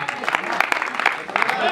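Audience clapping at a poetry recital, a brisk, steady burst of many hands that runs for a couple of seconds at close range.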